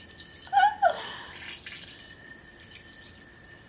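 Water drains and trickles from a small beauty sponge washing machine, a brief burst of splashing and gurgling followed by a faint steady drip and hiss.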